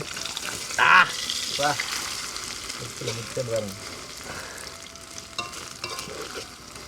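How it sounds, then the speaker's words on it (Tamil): An egg fries in a pan, giving a steady soft sizzle with occasional stirring and scraping, and a voice speaks briefly over the cooking. "இன்னும் கொஞ்சம் பொரியட்டு பொரியட்டும்"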